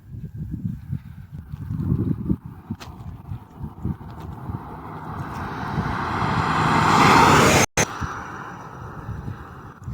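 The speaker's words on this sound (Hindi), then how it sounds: "एक गाड़ी आ रही है अभी।" Out on a road in Altyn Emel National Park, a vehicle approaches with a swelling whoosh and engine drone that peaks loud and close before rushing past, over rustling outdoor background noise.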